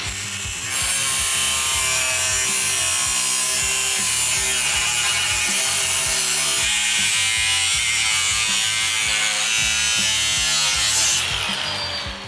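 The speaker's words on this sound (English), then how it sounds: "Now we'll just go ahead and cut this out with the cutoff wheel." A cutoff wheel slicing through a metal plate during a classic Camaro build, a loud continuous high-pitched grinding whine that holds steady for about eleven seconds before winding down, with no talking.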